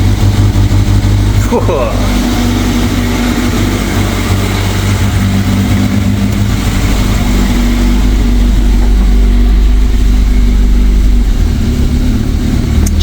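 A freshly started car engine idles steadily with the choke just switched off, a loud continuous low rumble running throughout while a person briefly exclaims over it.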